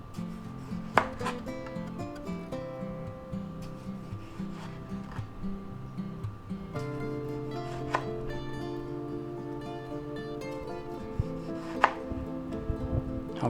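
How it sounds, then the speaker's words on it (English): A sharp kitchen knife slices through fresh tomatoes on a board, giving steady soft cutting strokes with occasional sharper taps, close up, alongside a sustained musical backing. "So we'll go ahead and slice these up."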